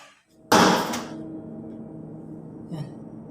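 A door or window opening outside near a parking area of a mansion: a sudden loud rattling bang that fades over about half a second, then a softer knock a couple of seconds later, with no talking.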